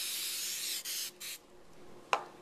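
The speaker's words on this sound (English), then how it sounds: "we're going to spray the bowl, and we're going to put in the bread, and we'll spray it also" Cooking oil spray hisses into a bowl for bread dough in three quick bursts, a long one followed by two shorter ones, then a small sharp click, close and fairly soft.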